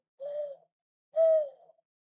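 A woman imitates an owl with her voice, giving two breathy hoots, the second stronger and longer, close and clear against silence.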